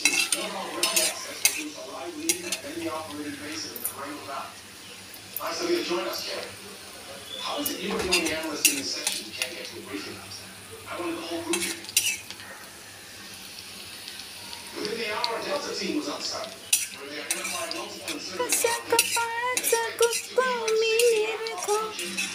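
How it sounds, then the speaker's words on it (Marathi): Garlic browns in a pan as a utensil stirs it, giving repeated scraping and clinking strokes of metal on cookware over a light sizzle, while someone talks throughout. "लसूण ब्राऊन करून घ्यायची."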